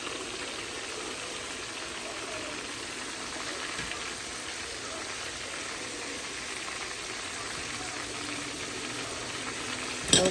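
Chicken wings frying in a deep fryer, a faint steady sizzle and bubbling hiss that holds evenly for the whole stretch, with a brief clunk at the very end.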